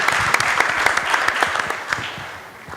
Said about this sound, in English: Let's give a round of applause to our panelists today.